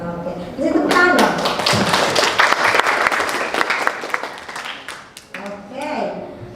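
A classroom of students clapping together in a burst of applause that lasts several seconds, dense and close, with children's voices chattering before and after.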